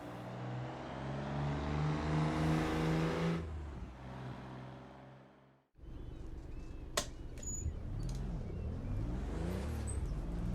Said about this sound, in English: So let's go for a drive in the 993 Turbo.